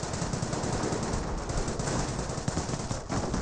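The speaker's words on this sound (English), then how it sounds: "he's shooting too many rounds on that roadblock and not against these Panzer Grenadiers" Continuous, dense machine gun fire from the Company of Heroes strategy game, a loud rattling barrage with no pauses, heard without talk.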